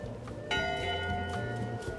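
A single ship's bell in the video game Return to Monkey Island strikes once with a bright ringing tone that hangs and slowly fades over soft background music, close and moderately quiet.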